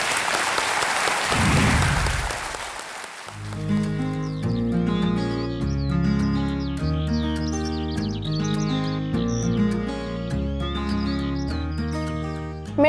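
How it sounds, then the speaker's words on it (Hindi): Studio audience applause rings out to welcome a contestant on a quiz show, a dense burst of clapping that fades after a few seconds and gives way to upbeat theme music. "तालियों के साथ हम आपका स्वागत करते हैं"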